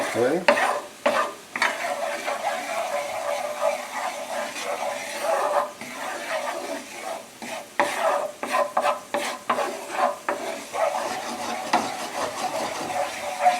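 Flour gets stirred into butter in a pan while a garlic cognac sauce is being made, with a steady sizzle and a run of close spoon scrapes through the clip and a brief spoken word near the end.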